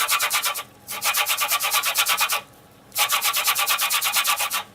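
An orange rubbed back and forth across the rough, scratchy side of a kitchen grater while baking cupcakes, making two long bursts of fast, rhythmic rasping strokes separated by a brief pause, close and fairly loud.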